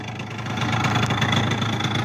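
A 96cc two-stroke scooter engine runs steadily at close range, a continuous low, buzzing drone with a fairly even, moderate loudness throughout.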